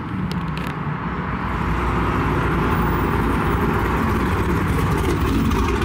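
Chrysler 300 SRT with a 5.7 engine at a car meet in Texas: a steady, fairly loud engine rumble with a low idle that holds evenly throughout, heard from nearby with no talking.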